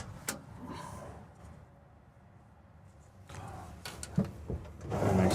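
A drawer in a 2023 27North RexRover AC1 overland truck camper slides and knocks shut, a short clack followed by a quiet stretch, then a burst of sliding and thumping that ends in a firm close.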